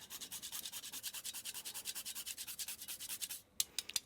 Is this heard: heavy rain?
no